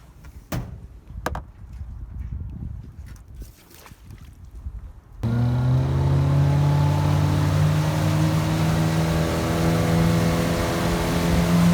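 After a few seconds of quiet knocks and thumps, a pontoon boat's 60 horsepower outboard engine starts up and runs loud and steady with a constant droning hum.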